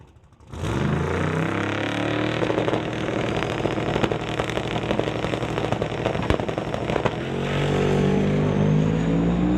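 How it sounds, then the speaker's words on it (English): Loud, steady roar of a Chevy 2 doorslammer drag car doing a burnout at an NHRA drag strip. The engine starts abruptly and holds at full snarling intensity with crackling tire and exhaust noise throughout. "Jay Sievertson will be up first as he completes the burnout"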